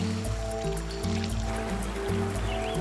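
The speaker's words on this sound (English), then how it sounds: "Instead, they suck water up, then spray it into their mouths." An elephant sucks up water with its trunk and sprays it into its mouth, making wet trickling and gushing sounds over steady background music.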